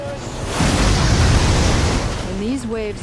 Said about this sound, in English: When these waves approach the coast of Oregon at Cape Disappointment, they keep the United States Coast Guard busy.